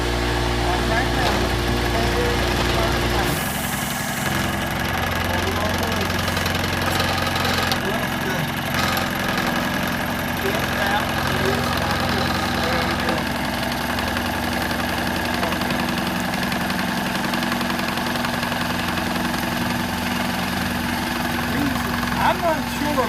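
Steady machine drone of a metal lathe taking a cut, with a continuous mechanical whir and rough grinding texture throughout, close and fairly loud, with the motor starting up early on.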